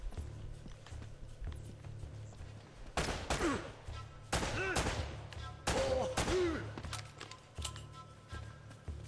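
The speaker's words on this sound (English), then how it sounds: "stop shooting me!" Gunfire in the video game Uncharted: Drake's Fortune, with sharp bursts of shots clustering around the middle of the stretch over a steady game background hum.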